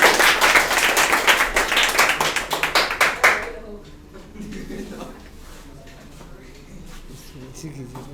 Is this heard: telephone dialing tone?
no